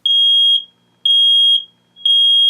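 Google Nest Protect smoke alarm sounding a loud, piercing electronic beep in steady bursts of about half a second on, half off, three pulses with nothing else heard.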